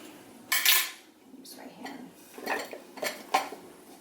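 Beets are mixed with utensils in a dish, making a few close clinks and scrapes of metal against the dish in short irregular bursts.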